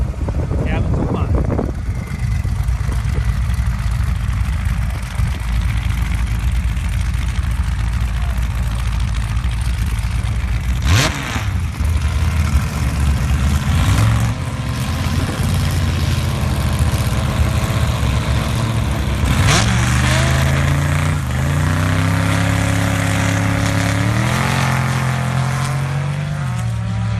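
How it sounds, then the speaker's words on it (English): Volkswagen-powered dune buggies at a sand drag race idle and rumble loudly throughout, with occasional revs near the end, under a race announcer's continuous talk. "Bob Schaefer over on the far side, the Volkswagen-powered buggy, up against Wes Gilmore Jr."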